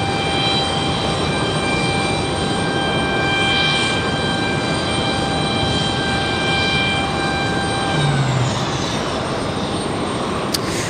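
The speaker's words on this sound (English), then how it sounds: "There goes a 737 for Delta Airlines" A Delta Air Lines Boeing 737 jet departs, its broad steady engine roar filling the air with high whining tones sliding downward as it climbs away, loud and continuous with no talk.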